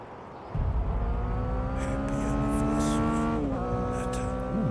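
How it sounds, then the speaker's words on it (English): Motorbikes passing during a nighttime truck-driving game stream, with a sudden loud engine drone and rising harmonic whine that holds steady and shifts pitch as they go by, heard alone. "Ooh, motorbikes."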